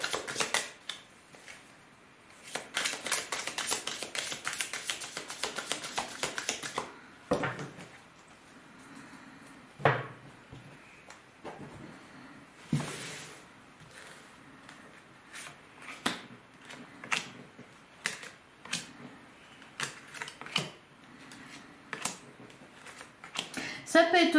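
Tarot cards being drawn and shuffled from a deck, a run of soft papery flicks and slaps, dense and near at first, then scattered taps, with a voice talking throughout.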